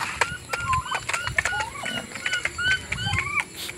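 Rhode Island Red and Buff Orpington chickens clucking close by in a rural yard, with rapid, repeated, overlapping calls over a low background murmur.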